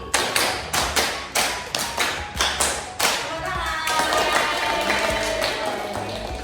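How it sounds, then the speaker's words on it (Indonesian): A classroom group plays a clapping game, first a run of sharp, rhythmic sets of claps in a steady counted pattern, then loose, overlapping clapping and tapping as the group breaks into a brief burst of applause and noise. "tepuk lima dua kali"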